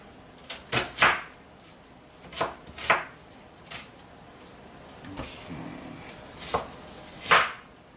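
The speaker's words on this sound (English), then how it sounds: "We have nice little diced pieces of onion." A knife dices an onion on a cutting board in a series of sharp, close chops, spaced irregularly with short pauses between strokes, with no talking.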